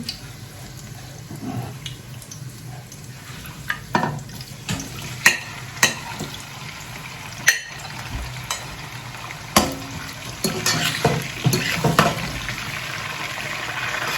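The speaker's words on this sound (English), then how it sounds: "my goat meat is also cooking so nicely on fire" Goat meat cooks over an open fire, giving a low steady sizzle with scattered sharp pops and clinks of stirring, which grow busier toward the end; no one speaks.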